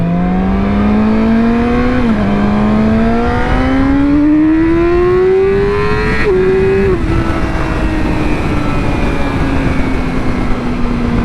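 Sport motorcycle, a Yamaha R6 or Kawasaki Ninja 400 with a new chain and sprocket, revving hard and accelerating through several gear shifts, engine pitch climbing in loud close steps with brief dips between gears.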